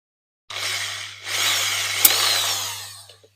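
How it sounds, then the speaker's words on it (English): A drill bores out the metal rivets on a Matchbox K36/41 Bandolero diecast car, a close, steady high whine in two bursts with a brief sharp click near the end. "this black one needs a bit more drilling."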